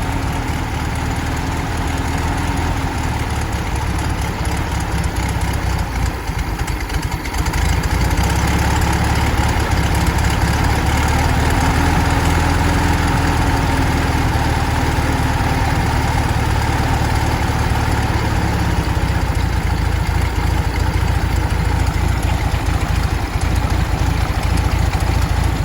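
A restored 1931 Schebler DLX76 carburetor feeds an air-cooled VW engine that idles steadily and loudly, a continuous low rumble with a slight lope, briefly dipping before settling back to a constant drone with no talk.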